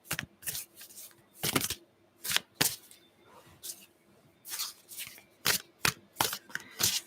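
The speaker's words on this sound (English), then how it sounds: "Shuffle, shuffle, shuffle." Tarot cards are shuffled in a series of sharp riffles and soft slides, close and fairly quiet, in uneven bursts with short pauses between them.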